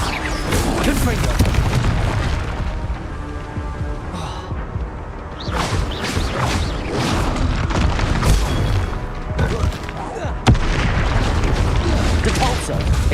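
Confringo blast curses in Hogwarts Legacy set off repeated heavy booms and crashes through a busy, loud magical duel that never lets up, with voices speaking over the blasts.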